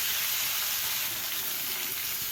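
Mixed vegetables for a Bengali vegetable curry cook and get stirred in a hot pan until soft. A continuous, close hiss of sizzling holds steady throughout, with no speech.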